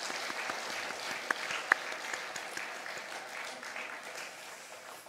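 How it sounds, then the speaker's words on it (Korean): A church congregation at a Wednesday worship service applauds, an even wash of many hands clapping at moderate distance with a couple of sharper nearby claps, and faint voices underneath. "박수로 축복합니다"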